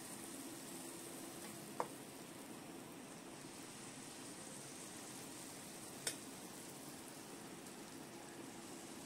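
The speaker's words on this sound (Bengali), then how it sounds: "এবার আমি ফ্রাই প্যানে এগুলো ভেজে নেব" Sweet batter rotis frying in ghee in a pan, a steady soft sizzle and crackle that runs unbroken throughout, with two brief sharp clicks along the way and no talking.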